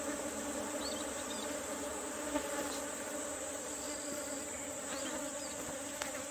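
Native Korean honeybees buzz steadily at the hive, a dense, continuous droning hum close by with no talking.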